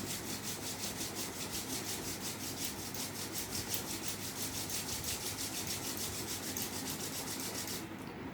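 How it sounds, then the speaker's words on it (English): Palms rubbing together briskly during a yoga warm-up: a steady, rhythmic swishing friction that repeats fast and evenly for about eight seconds at close range, with no talk. "Rub our palms."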